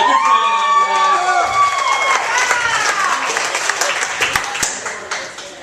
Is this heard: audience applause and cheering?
yes